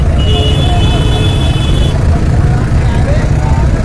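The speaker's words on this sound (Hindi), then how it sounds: "अभी ट्रैक्टर जा रहा" A tractor rumbles past loudly at a crowded, barricaded Mukarba Chowk road during a 26 January protest, its low engine drone steady and close beneath a shouting voice.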